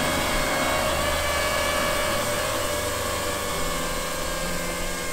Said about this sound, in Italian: Premiamo Start e come potete vedere il drone parte.